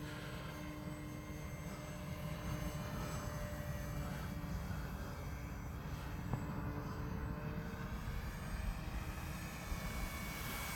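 A faint, steady engine drone of an RC model airplane flying overhead hums throughout, buzzing at a distance, continuous with no voices.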